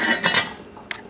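Chopped potatoes dropped into a pot of clam chowder, making a brief clatter of metal and pieces hitting the pot, then a softer clink near the end; close and short, with no talk.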